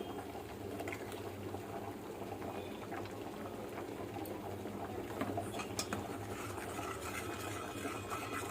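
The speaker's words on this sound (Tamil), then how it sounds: "நல்லா கொதிச்சிருச்சு." Water at a rolling boil in a pot while making coconut thirattu, a steady bubbling and gurgling close by that carries on unbroken, with no talk over it.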